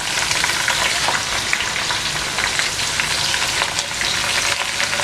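Garlic and ginger fry in hot cooking oil for a spiced rice pilau, giving a steady, loud, dense sizzle that crackles without pause throughout.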